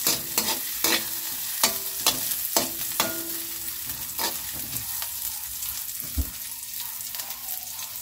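Pork and chicken adobo ingredients sizzle in a hot pan while being fried until golden brown, with steady frying crackle and repeated sharp scraping stirs of a utensil against the pan, close and clear.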